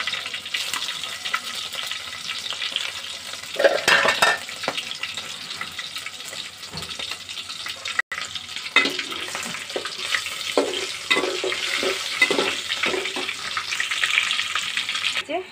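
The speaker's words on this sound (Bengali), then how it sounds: "এখানে আমি চিংড়িটা একটু হালকা ফ্রাই করে নিয়েছি" Prawns lightly frying in a wok, a steady broadband sizzle with watery hiss and occasional stirring clatter throughout, close and moderately loud with no talking.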